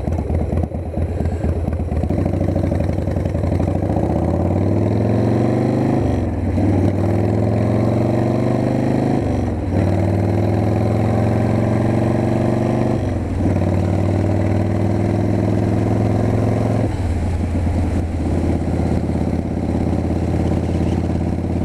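A Harley-Davidson Softail or Sportster motorcycle rumbles close up while riding, its engine climbing in pitch through several gears with clear drops at each shift, loud and steady for over twenty seconds, with no speech.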